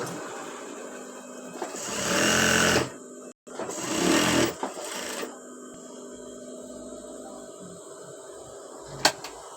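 A sewing machine stitches petticoat fabric panels with a double seam, running in two steady bursts of a second or more each, separated by a short pause, followed by quieter room tone.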